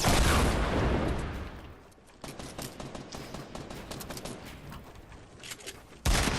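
Fortnite gunfire crackles in rapid bursts, a loud rattling stream of shots after a brief lull, close and dense with a sharp resumption near the end.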